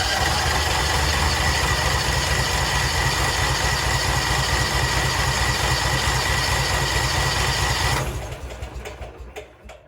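Bigbear BBC72 wood chipper engine idling steadily and loud just after start-up, a constant droning hum for about eight seconds before it is cut and the sound dies away.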